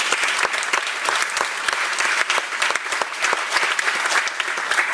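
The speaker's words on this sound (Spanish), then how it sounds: "Fuerte el aplauso al Señor." Church congregation applauding steadily, a dense, continuous wash of many hands clapping at close range, with no talk over it.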